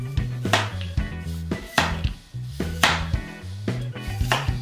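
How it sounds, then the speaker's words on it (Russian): Beetroot being chopped into pieces, a run of firm knife strikes against a board, close and fairly loud, in an uneven rhythm with short pauses, no voices. "нарезаем на кусочки."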